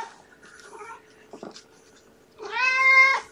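A kitten gives a drawn-out, high meow near the end, after a few soft, faint sounds in an otherwise quiet room.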